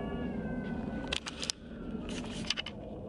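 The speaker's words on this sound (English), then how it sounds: "There's cats fighting." Cats fighting outdoors let out drawn-out meows and harsh yowling bursts, heard at a moderate distance with faint background noise and no talk.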